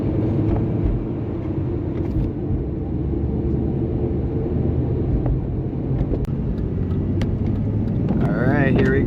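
Inside a Jeep Cherokee XJ, the 4-liter engine accelerates on the road. It is a steady, low, rumbling drone with road noise, and a brief squeak comes near the end.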